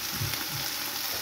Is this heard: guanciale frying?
yes